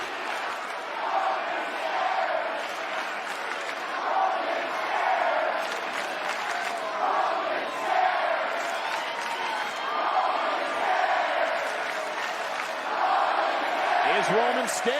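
A large wrestling arena crowd at WWE SmackDown roars and cheers continuously, a dense, loud wash of voices that never lets up, with an announcer's voice faintly audible underneath.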